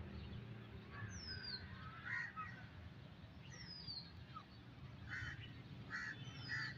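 Birds call in a small park in Lahore Sadar, faint, scattered honking and quacking calls at a distance over a low background hum.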